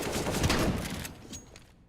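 Pump shotgun blast in a first-person shooter match on the Palace map, a loud close burst with a ringing tail fading over about two seconds.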